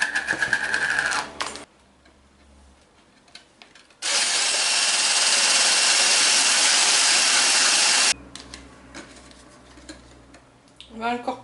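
Electric hand mixer whipping cream for a banana mousse, a steady loud whir running for about four seconds on its own between quieter moments of kitchen activity.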